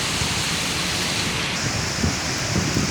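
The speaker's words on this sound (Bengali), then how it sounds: "আকাশ থেকে প্রচণ্ড হারে বৃষ্টি হচ্ছে" Heavy rain pours down in Dhaka as a dense, steady hiss of falling water, loud and close, with a few low thumps but no clear voices.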